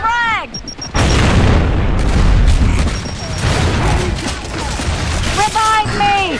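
A frag grenade going off in a 4v4 team deathmatch shooter on the Sandbar map, a loud close blast followed by rumbling debris and scattered gunfire, with radio-style beeps and chirps around it.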